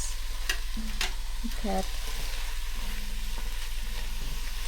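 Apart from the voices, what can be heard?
food cooking on an electric portable double hot plate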